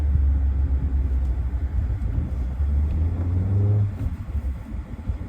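A Peugeot 3008 120 hp road car drives along a street on a road test, with a steady low engine and road rumble throughout that eases off near the end.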